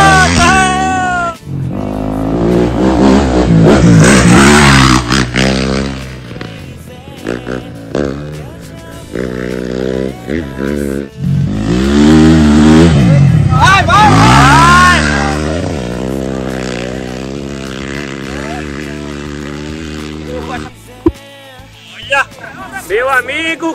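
Yamaha rally motorcycle engines rev and whine repeatedly, rising and falling in pitch, with a crowd and an excited announcer talking loudly over them.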